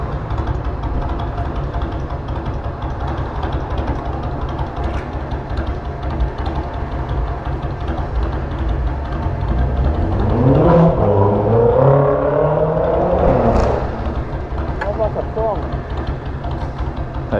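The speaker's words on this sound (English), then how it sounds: "Those bikes sound hideous." Motorbikes pass close by on a road, their engines rising in pitch and then falling over a few seconds, heard over a steady rush of wind noise.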